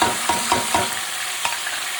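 Chicken chops fry lightly in hot oil with a continuous close sizzle, punctuated by a few soft stirring or shifting knocks.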